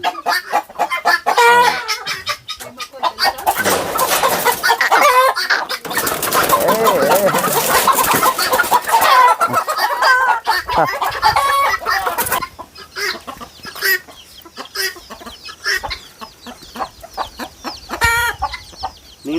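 A flock of Bhimavaram country chickens clucking and squawking nearby, loud and busy, with a person talking briefly over the birds.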